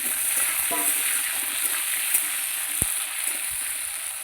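Potatoes frying in a pan for a fish dish, a steady close hiss of oil with a few soft stirring scrapes and one sharp clink, no talk.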